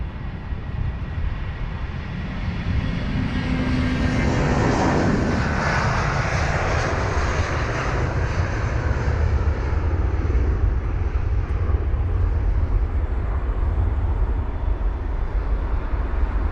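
Jet airliner engines roar steadily at close range at London Heathrow, a continuous broadband rumble that swells and then holds loud throughout as an aircraft powers up near the runway.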